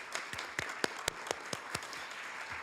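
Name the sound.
applause at a city council meeting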